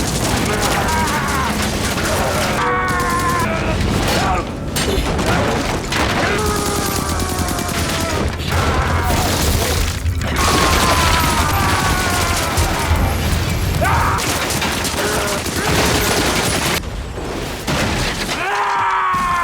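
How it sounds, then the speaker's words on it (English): Machine-gun barrage from an arm-mounted gun in a Rurouni Kenshin anime fight on a street, dense rapid bursts and shattering impacts running continuously and loud, with music and shouts mixed in. "The man had a machine gun mounted on one arm, and Kenshin swiftly dodged his barrage of fire."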